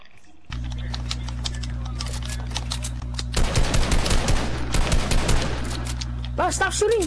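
Gunfire rattles in the Hitman video game, rapid clattering shots over a steady low electronic hum, intensifying into heavier dense bursts partway through, with a voice briefly audible near the end.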